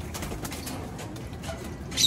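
Soft pigeon cooing sits beneath a steady outdoor hiss, with a brief brighter chirp near the end.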